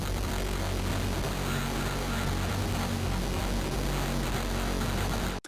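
Industrial synth loop from Vital, heavily distorted with chorus, bit crushing, OTT compression and analog delay: a loud, wall-like roar of saturated noise holding steady for about five seconds before abruptly cutting off.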